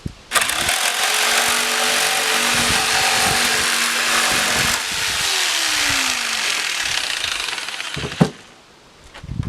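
A Harbor Freight jigsaw cuts through a small piece of scrap, a loud, steady, rattling buzz of the reciprocating blade running for about eight seconds, then stopping with a clunk and a fading whine.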